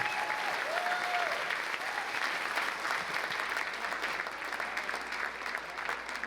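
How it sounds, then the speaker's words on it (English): An audience at a Buena Park city event applauds after a musical performance, steady sustained clapping from a large crowd that continues evenly throughout at moderate distance. "Let's give him one more round of applause"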